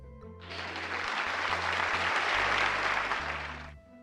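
A group of young kindergarten children clap their hands together in a burst of applause, building quickly, holding for a few seconds, then stopping abruptly.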